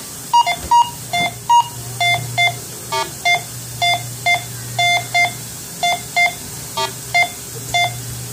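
Go Find 60 metal detector sounding over metal targets such as a coin: a run of short, clear electronic beeps in uneven pairs and clusters, close and fairly loud over a low steady hum, with no talking.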